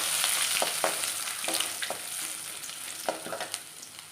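Dried red chilies, peanuts and ginger frying in oil in a pan for sago upma, making a steady nearby sizzle with a few light stirring scrapes and clicks, no speech.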